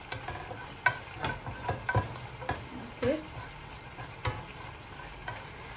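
Dried red chillies fry in hot oil for a spicy chicken mushroom korma, a soft steady sizzle broken by repeated scraping stirs and a few sharp clicks of a utensil against the pan, close up with no talking.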